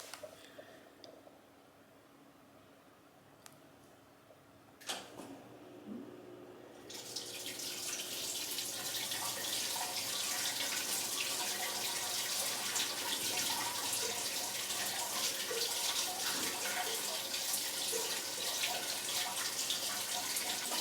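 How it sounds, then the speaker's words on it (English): An indoor hydroponic farm stand pump starts up after a few quiet clicks and knocks, then runs with a steady hissing rush of circulating nutrient water that stays constant and fairly close. "I'm going to go ahead and run the pump for a little while to go ahead and mix up the nutrients"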